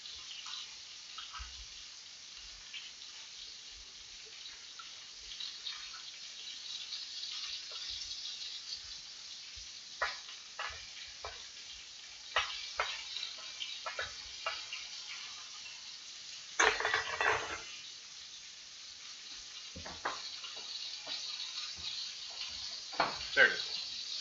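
Carrots are flipped and fried in a pan while cooking chicken with mango sauce, giving a steady sizzle with scattered clinks and scraping taps, a few louder bursts midway and toward the end.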